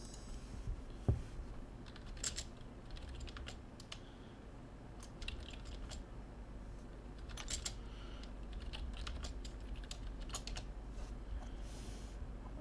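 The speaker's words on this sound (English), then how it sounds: "Let me just type it in chat." Quick bursts of typing on a computer keyboard, faint and close, with irregular clusters of key taps and pauses between them over a quiet background hum.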